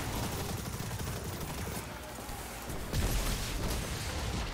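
IKELOS SMG fire in Destiny, loud continuous automatic bursts that rattle on without pause, briefly dipping then surging heavier near the end.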